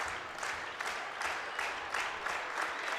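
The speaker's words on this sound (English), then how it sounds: "And the rhythmic clapping" Volleyball match spectators in an arena clap rhythmically in a steady, evenly spaced beat, fairly distant and moderately quiet, with no talk over it.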